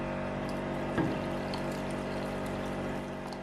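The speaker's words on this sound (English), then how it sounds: "I'm gonna add another 2 cups of hot water." Hot water is poured into a pot of Caribbean chicken soup with peppers, onion and garlic, a faint, steady liquid trickle and splash under a low background hum.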